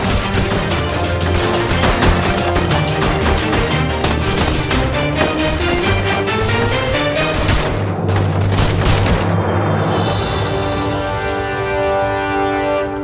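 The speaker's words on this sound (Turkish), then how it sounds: "bir patlama sesi geldi" Dense, loud battle noise with booming blasts and crackling gunfire throughout, a heavy explosion-like roar swelling near the end, in a TV drama battle scene.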